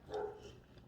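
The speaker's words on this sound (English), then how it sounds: "That's my dog again outside." A single short dog bark from outdoors, faint and distant, heard from inside a kitchen during cooking, with no talking over it.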